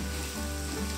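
Ingredients for fried rice with petai stir-fry in a hot pan with a steady, dense sizzle, close and continuous, with no voices.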